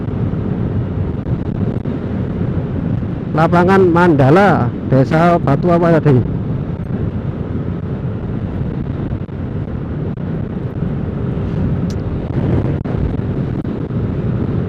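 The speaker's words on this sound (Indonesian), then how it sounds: "di sini ini anginnya sudah mulai kenceng lagi" Strong wind buffets the microphone throughout while touring by motorbike along Madura's north coast road, a steady broadband roar under someone speaking Indonesian, with a brief burst of louder voice in the middle.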